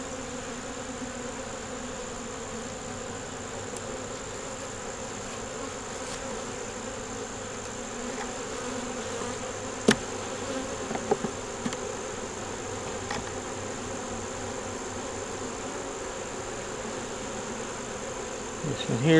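Honey bees buzz steadily inside a hive as they repair wax moth damage, a continuous soft drone with a few brief clicks and knocks partway through.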